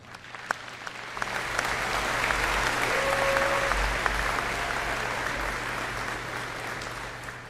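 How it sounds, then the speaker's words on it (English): Audience at a doctoral and master's degree graduation ceremony breaks into sustained applause, a dense wash of clapping that swells within a second and carries on steadily for several seconds in a large hall. "You now can applaud."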